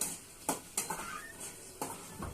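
Chicken fries in a pan for a Sunday-special home meal, a steady close sizzle broken by several sharp clacks of a spoon stirring against the pan.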